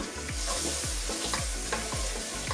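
A spoon scrapes and stirs steadily through a thick mixture as sage and garlic powder are worked in, with a rhythmic swishing close up and a soft background hiss, no voices.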